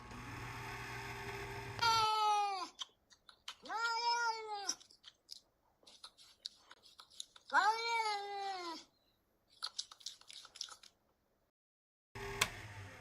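A cat meows during a coin pusher game stream: three drawn-out, wavering meows spaced by pauses, with a few faint clicks between them and a burst of machine noise at the start and end.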